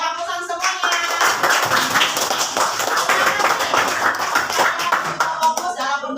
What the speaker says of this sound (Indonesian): Nah, beri aplaus semuanya.